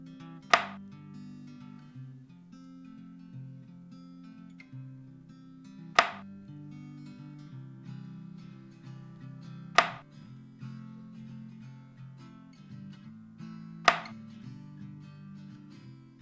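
A knife slices through apple for apple chips, four sharp, isolated cuts spaced several seconds apart against a quiet kitchen background hum.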